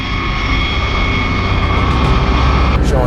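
A B-52 Stratofortress bomber flying overhead: a heavy, continuous engine roar fills the sound, deep and loud, with a steady low rumble and a brief higher whoosh near the end.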